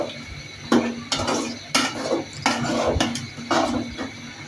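Beef is stirred into bhuna khichuri in a pot, with a utensil scraping and knocking against the metal in repeated strokes, loud and close, with faint sizzling underneath.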